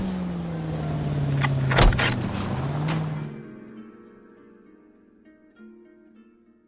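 A car in the video game L.A. Noire revs its engine with a rising and falling drone and some thumps, then fades away, leaving quiet ambient tones.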